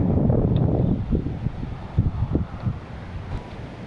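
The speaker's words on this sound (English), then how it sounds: "the wind has just been unmanageable" Strong, gusty wind at a small pond buffets the microphone with a steady low roar that surges and dips in uneven gusts throughout.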